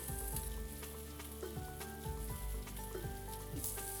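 Chopped carrot, green beans and broccoli sizzle in a pan over medium flame for a vegetable soup, a continuous bright crackle with faint clinks of stirring throughout.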